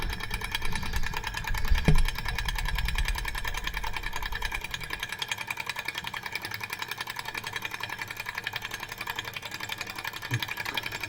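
A small Stirling engine runs close to the microphone with a fast, even mechanical ticking and whir. A brief knock and rumble come near the start, then the rhythmic clatter steadies.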